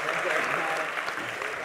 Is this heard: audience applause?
yes